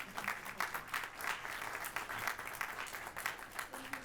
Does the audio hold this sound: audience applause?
yes